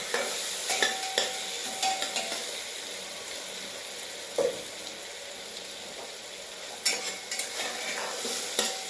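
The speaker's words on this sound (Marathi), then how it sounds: "कांदा खरपूस परतून झालेला आहे" Onions being fried until crisp and browned for biryani, with a continuous close sizzle and repeated spoon scrapes and taps against the pan, now and then louder.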